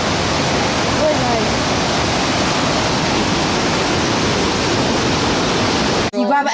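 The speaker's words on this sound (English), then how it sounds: "Well, we are at the falls. Oh, this is the river." A river rushes steadily at a waterfall on a camping trip, a dense, loud, unbroken roar that fills the clip before cutting off abruptly at the end.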